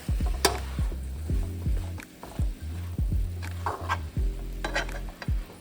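Seasoned zucchini and squash are tossed and stirred in a hot pan, with repeated soft thumps and scrapes of vegetables and utensil over a steady low sizzle, near and close, without talking.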